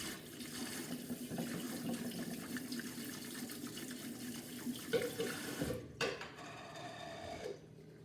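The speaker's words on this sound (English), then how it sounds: "But before we start, we always wash our hands." Water runs steadily from a kitchen tap over hands being washed, a continuous close splashing hiss with brief louder splashes and shifts near the end as the flow is interrupted.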